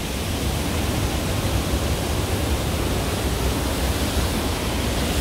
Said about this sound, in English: So of course we have this wonderful waterfall here